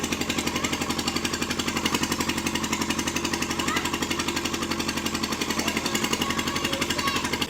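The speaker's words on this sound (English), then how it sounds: "Here's the John Deere 316 with the Kubota diesel running" The Kubota diesel engine of a John Deere 316 tractor runs loudly with a rapid, even pulsing chug and no exhaust muffling, steady and close for several seconds.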